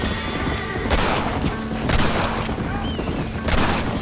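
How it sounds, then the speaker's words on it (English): Gunfire in the Red Dead Redemption video game: several loud sharp shots crack out at irregular intervals over a busy game soundscape. "Three shots."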